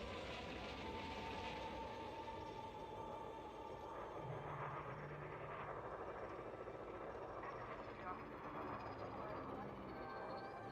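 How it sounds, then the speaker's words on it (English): Adder space taxi landing in the game Elite Dangerous Odyssey, a loud, continuous engine roar and hum that stays dense and even throughout, with no break or fade. "Landing gear down on this Adder taxi,"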